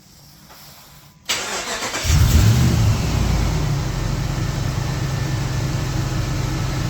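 A Dodge Ram engine started by a Compustar remote start: after a quiet moment, a click and cranking lead into the engine catching and settling into a steady, close idle rumble.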